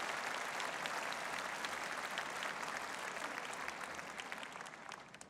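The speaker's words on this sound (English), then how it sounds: "give Chris a round of applause" Audience applause at a 2015 Broadway launch party, a dense and steady clapping from a crowd that holds its level for several seconds and eases off only slightly toward the end.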